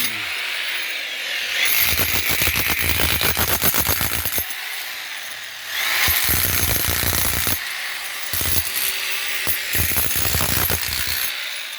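A construction worker runs a mini jackhammer in repeated loud bursts of rapid hammering, a few seconds each with short pauses between, close by and with no talking.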